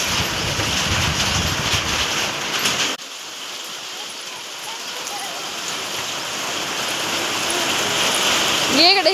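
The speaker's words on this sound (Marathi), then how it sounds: "पाऊस आलाय का?" Steady rain falls and patters on surfaces, a dense hiss that briefly drops in level partway through, with voices talking in the background.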